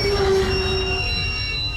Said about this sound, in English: As you speed past Roswell's many districts by the tram